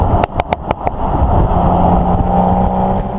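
A 2019 BMW X3 M40i engine accelerating while driving, a steady loud cabin drone after a few quick sharp clicks at the start.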